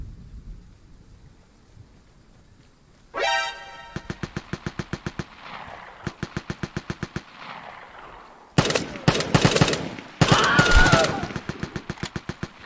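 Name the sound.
gunfire from a gun in the video game Vigor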